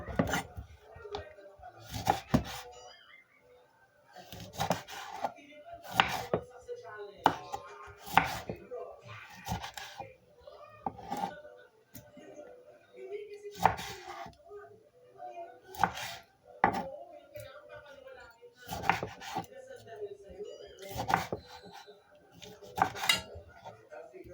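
A kitchen knife chopping garlic, onion and tomato on a board, bursts of rapid close taps in repeated runs with short pauses, plus occasional clinks of dishes, while a person talks quietly.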